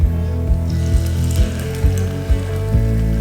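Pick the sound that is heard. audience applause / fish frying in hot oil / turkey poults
fish frying in hot oil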